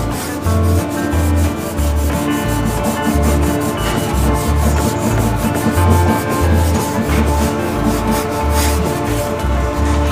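Steady back-and-forth rubbing on a hazy, yellowed car headlight lens being polished clean, a continuous scrubbing texture with a repeating low thumping rhythm, loud and close with no talking.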